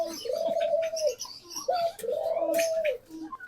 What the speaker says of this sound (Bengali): ঘুঘু পাখির এই মেল বাচ্চাটা